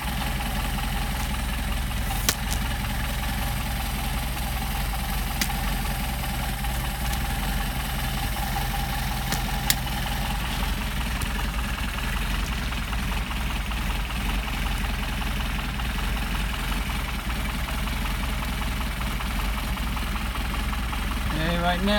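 A Mercedes-Benz 190SL engine with Solex carburetors idles steadily for a long stretch, a constant mid-low rumble with faint ticking, while adjustments are made and someone talks over it.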